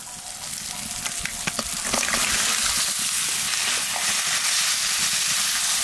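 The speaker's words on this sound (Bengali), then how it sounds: "মশলাটা তো কষাই নিলাম" Spice paste of ground green and dried chillies frying in a pan, a steady loud sizzle with crackling pops that grows fuller after the first couple of seconds and continues unbroken.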